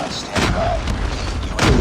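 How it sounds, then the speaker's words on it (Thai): Explosions in Call of Duty Mobile during a 10v10 Shipment match, sharp booms bursting out twice over a busy game background with a voice reacting in between. "อุ้ยระเบิดอีกแล้วระเบิด"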